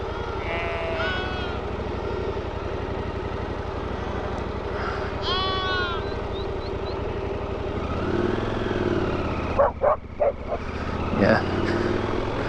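Lambs bleat in short, wavering cries over the steady drone of an idling motorcycle on a high-altitude mountain ride, with a voice speaking briefly near the end.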